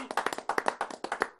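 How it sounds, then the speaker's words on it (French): A small audience claps at a televised Zamba Zamba show, sharp uneven hand claps close and moderately loud for a brief moment. "On applaudit"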